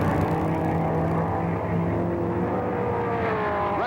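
Racing engines roar continuously at Riverside International Raceway in 1964, with Dan Gurney's McLaren M1 dueling Graham Hill's Lotus 40 down the long back straight; loud, sustained droning with pitch shifts as cars brake and accelerate, no talk.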